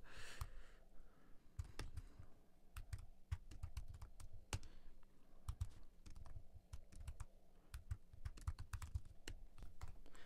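Quiet close-up typing on a computer keyboard, a rapid uneven run of soft key clicks with a few sharper taps, steady throughout with no talking.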